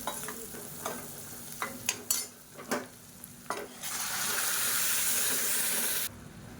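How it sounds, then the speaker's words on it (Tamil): Onions sautéing with spice powder in a pan: several sharp stirring clinks and scrapes, then a loud, steady sizzle and hiss as sambar is poured in, ending abruptly. "சேர்த்துட்டு லேசாக வதக்கி விட்டுட்டு சாம்பார் எடுத்து இதில் ஊற்றிடலாம்."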